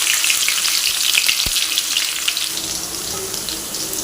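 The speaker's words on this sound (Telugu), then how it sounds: "ఎల్లుల్లిపాయ వేసుకుందాం," Garlic goes into hot oil for sambar and sizzles loudly, a dense close frying hiss that holds steady and eases slightly toward the end.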